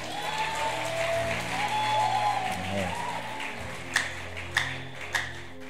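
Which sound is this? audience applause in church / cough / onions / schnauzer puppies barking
audience applause in church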